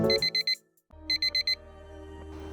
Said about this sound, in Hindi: ठीक 4:30 बजे बजा मेरा अलार्म।